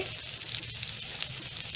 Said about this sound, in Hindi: इसे एक मिनट के लिए सौते करेंगे जिससे कि अदरक और हरी मिर्च थोड़े से पक जाए